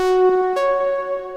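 Two sustained notes from the Diva software synthesizer, the second entering with a bright attack and holding a bit higher; a clean, harmonically rich tone with no voices.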